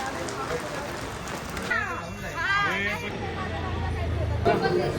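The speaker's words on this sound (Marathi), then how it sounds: "जोरात चालू झाला आहे पाऊस" Steady heavy rain hisses throughout on a road trip, with people talking over it and a low vehicle rumble underneath.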